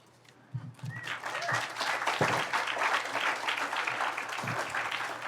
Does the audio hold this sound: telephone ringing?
no